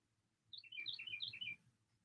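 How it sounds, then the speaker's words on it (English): A small bird sings a quick, high, chirping phrase of several rapid notes, faint and somewhat distant, over a low background hum. "You can hear the birds singing."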